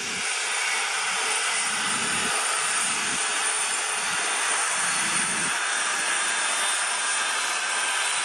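A Boeing airliner lands, a continuous jet engine roar with a broad airy hiss and a pulsing low rumble underneath. The sound is loud and steady, with no voices.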